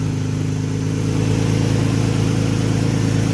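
A Nissan Tiida engine idles after an alternator conversion, a steady, loud, close mechanical hum with even low-pitched firing and a slight rise in idle partway through, with no talking.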